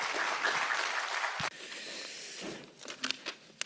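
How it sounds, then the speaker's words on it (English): At an agricultural research symposium, the audience's dense applause welcoming the JIRCAS president breaks off abruptly after a second and a half, leaving faint room rustle and a few soft knocks. "please welcome him with a big round of applause"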